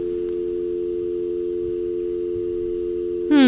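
A steady telephone line tone sounds alone while calling in the Nancy Drew game Secret of the Scarlet Hand, humming flat and unbroken before a short rising beep at the end.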